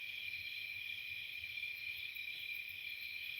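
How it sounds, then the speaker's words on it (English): Loud crickets chirping in a dense, continuous high-pitched trill, steady and unbroken throughout. "Yeah, super loud crickets."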